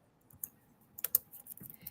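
Typing on a computer keyboard during a live coding session, a few soft scattered keystrokes followed by a quick cluster of sharper clicks, quiet and close with no talking.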